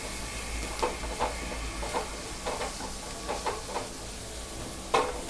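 Tamarind gravy for a lady's finger kulambu with coconut sautéing on a low flame, giving a soft steady sizzle with faint intermittent stirring scrapes, fairly quiet and close, with no voices.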